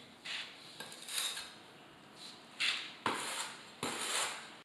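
Excess tile adhesive is scraped off large-format floor tile with a hand tool, a series of short rasping scrapes with a few sharper knocks, close and moderately quiet, no talking.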